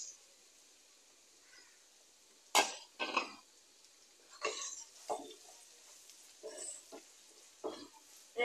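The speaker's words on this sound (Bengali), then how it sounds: "নেড়ে চেড়ে নেওয়া হয়ে গেলেই এবারে পেঁয়াজ কুচি গুলো দিয়ে দিব।" Qurbani Eid beef stirred in a frying pan, quiet intermittent scraping and clattering strokes of a utensil over a faint background hiss, spaced irregularly.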